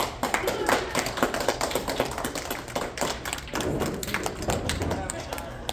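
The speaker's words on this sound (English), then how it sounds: "Another round of applause." A small open mic audience gives a scattered round of clapping after a singer finishes, uneven hand claps and thumps close by for several seconds, with a voice speaking over them.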